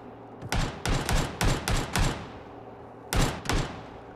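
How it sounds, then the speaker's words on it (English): An enemy shooter on a hilltop fires gunshots in a video game: about eight sharp cracks come in a quick uneven burst, then a short pause and two more shots. "I hear him shooting, I just can't see him."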